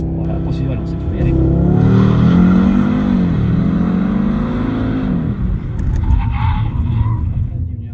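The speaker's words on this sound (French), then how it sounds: "quand tu veux, tu peux accélérer à fond" An Audi RS3 launches at full throttle from 0 to 100 km/h, its engine note climbing loudly through rising pitch sweeps with brief gear-change dips, then easing off as speech follows over the fading engine.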